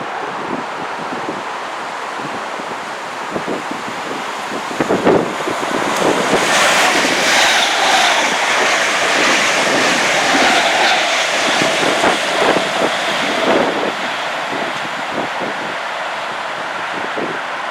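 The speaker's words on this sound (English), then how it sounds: "Oh, it comes a train actually." A train passes on a London railway line, a wind-buffeted rumble that swells into a broad roar mid-way and then eases off, with gusts of microphone wind throughout and no clear speech.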